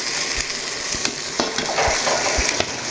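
Mungray fry in a pan and are stirred, a close steady sizzle broken by several soft stirring knocks and scrapes.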